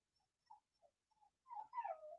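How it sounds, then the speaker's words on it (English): A pet dog whimpers and whines indoors, a few short faint whines followed by a longer, louder drawn-out cry, with no talking. "Uh-oh, my dog's going to start crybabying."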